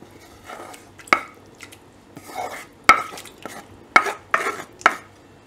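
Baby spinach (palak) dal in a pot being stirred after the cooked greens are added, heard as a series of close, distinct spoon clinks and wet scraping strokes against the pot at irregular intervals.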